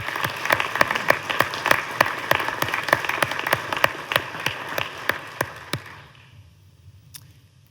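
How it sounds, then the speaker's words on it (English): An audience in the Nebraska legislative chamber claps for a state official at the governor's final Sine Die address; the applause is brisk and fairly loud, then thins to scattered individual claps and fades to near quiet at the end. "Can we please give him a round of applause"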